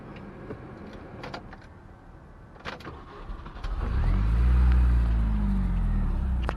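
A manual-transmission car's engine cranks and restarts partway through, then settles into a loud, steady idle close by after a few quieter clicks and rustles, with no talking.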